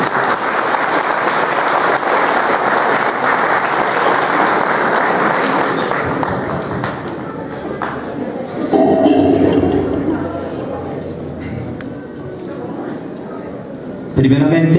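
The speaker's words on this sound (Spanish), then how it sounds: "para quien pedimos fuertes aplausos." An audience at a municipal swearing-in ceremony breaks into sustained, dense applause that fills the room, then fades as a voice begins speaking over the thinning claps.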